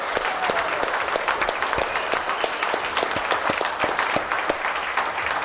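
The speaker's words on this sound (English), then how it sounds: "let's give him a round of applause" Dense, sustained applause from a large audience at a football signing day luncheon, many hands clapping steadily and loudly with no pause throughout.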